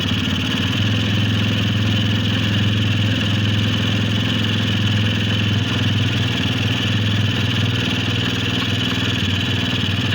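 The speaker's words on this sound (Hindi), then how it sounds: "मैं उसके बिना लगाए आपको बाइक को स्टार्ट करके दिखाता हूँ।" A BS6 TVS Radeon motorcycle with its choke on idles loudly and steadily up close, a constant mechanical chug with faint clatter and no change in revs.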